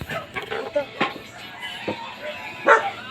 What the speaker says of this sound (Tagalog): Maraming aso eh.